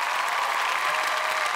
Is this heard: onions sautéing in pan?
no